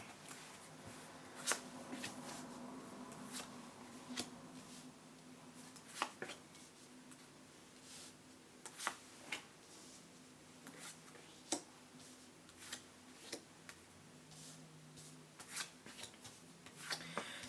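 Tarot cards are shuffled and laid down for a Celtic cross spread, heard as sparse, quiet taps and flicks scattered against a hushed room.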